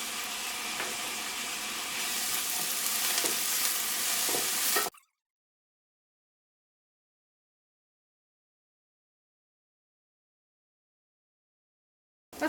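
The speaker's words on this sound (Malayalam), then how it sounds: "ഇനി ഇതിലേക്ക് കറിവേപ്പില ചേർക്കാം." Curry leaves frying in hot oil with onion, ginger and garlic for a cauliflower egg masala, a bright steady sizzle with a few stirring taps for about five seconds, then silence until a brief burst at the very end.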